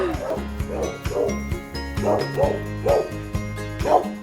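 A female dog at an animal shelter barks repeatedly in a steady rhythm, about eight close, loud bow-wow barks in quick succession, with a faint voice in the background.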